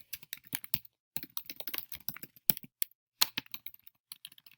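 Close, crisp clicks of someone typing on a computer keyboard come in quick irregular bursts with short pauses between words, alone in a quiet room.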